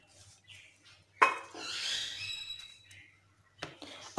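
Spoon stirring chopped carrots, cabbage and onion together in a bowl for dahi bhalla, a few scraping, clinking strokes up close and fairly quiet, with a louder knock near the end and no talking.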